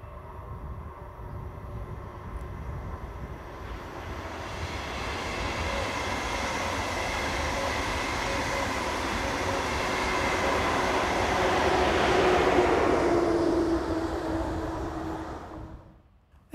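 A train slowing for the junction at Wunstorf rumbles past nearby, swelling to a loud roar with a brief squeal of wheels or brakes before fading away abruptly.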